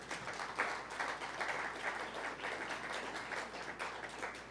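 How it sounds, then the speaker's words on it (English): Audience applause at a State of the City address, a steady wash of many hands clapping at moderate, slightly distant level, with no talk over it. "So let's give them a round of applause."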